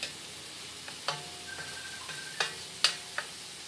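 Filipino-style spaghetti sauce bubbles quietly in a pan while a spoon stirs it, giving faint sizzling and a few light, scattered clinks against the pan.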